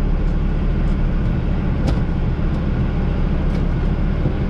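Steady low engine drone of a tractor pulling off smoothly in first gear with a PTO-driven topper running, constant and fairly loud with no talking.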